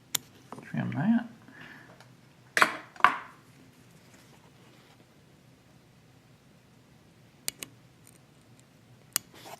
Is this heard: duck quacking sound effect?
no